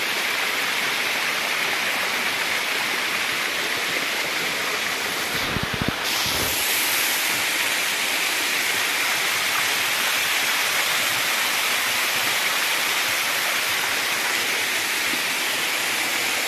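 A clear stream near a cave on the Narmada flows over black rock in a steady, loud, continuous rush, with a brief knocking disturbance around the middle and no voices.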